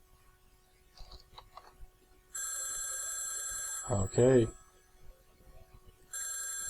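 A telephone rings during a VoIP test call, two bursts of steady electronic ringing with a gap between them, broken up by a short spoken word and some faint clicks.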